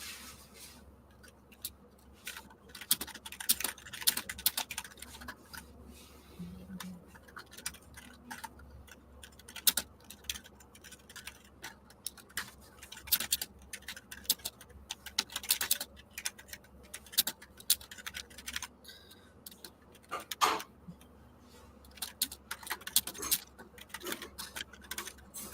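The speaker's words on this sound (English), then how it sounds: "I'm so glad this keyboard still works." Clicking keystrokes on a three-year-old computer keyboard, quick irregular taps scattered densely across the whole stretch, close and fairly quiet with no voice over them.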